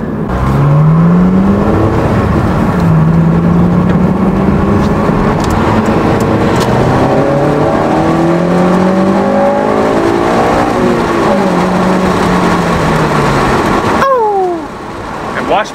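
An 8th-generation Honda Civic Si's VTEC engine revs hard through repeated pulls, pitch climbing and dropping between gears, loud and close, before easing off near the end.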